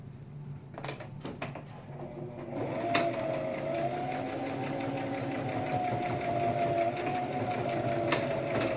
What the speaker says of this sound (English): So I am going to stitch straight up just along here.